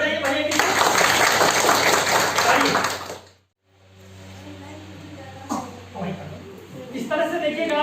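Applause from an audience at a school management committee formation meeting at Government Primary School Mirchi Tola fills about three seconds, then stops briefly before a voice talks over a steady hum.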